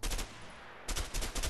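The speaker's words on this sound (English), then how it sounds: "The brand new MP5. Perfect for close quarters combat." Bursts of MP5 submachine gun fire in the game A Way Out, two loud rapid strings of shots separated by a short pause, close and sharp with no talk.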